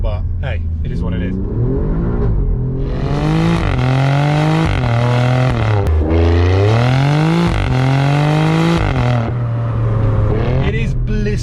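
A 2020 Alfa Romeo Giulia Quadrifoglio accelerating hard through several gears, its engine note climbing loudly and then dropping at each shift, heard close up with no talking.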